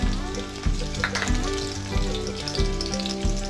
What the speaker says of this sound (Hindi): घी मेल्ट हो चुका है। अब हम इसमें ड्राई फ्रूट्स डालेंगे।